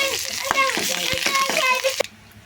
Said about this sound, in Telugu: కొంచెం మినప్పప్పు ఫ్రై చేసుకుందాం. కొంచెం ఎండుమిరపకాయ, కరివేపాకు కూడా వేసుకుందాం.